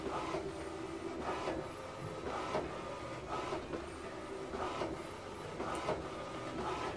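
An HP DeskJet inkjet printer printing a photo, running a steady mechanical whir with a regular rhythmic clack of the print head sweeping back and forth roughly every second, close and continuous throughout.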